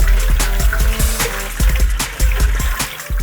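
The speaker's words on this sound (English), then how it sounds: "pour that excess water out" Excess rinse water poured off sliced kelp noodles in a kitchen; loud, close sloshing and draining with several bumps and knocks from the container.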